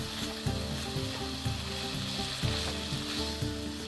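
Kale and daikon radish sprouts tossed in a hot pan, a dense continuous sizzle with a regular beat of stirring, steady and close, no voices. A tonal layer runs underneath, likely background music.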